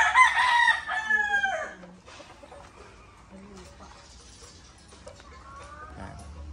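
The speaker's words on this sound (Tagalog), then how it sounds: "meron na tayong mga manok" A backyard rooster crows loudly up close in one long call, followed by quieter clucks and distant chicken sounds over a low ambient background.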